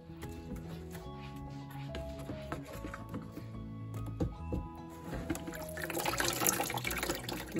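Apples are rinsed under running water, a close continuous splashing and trickling that swells louder toward the end, with knocks of the fruit in between and no talking.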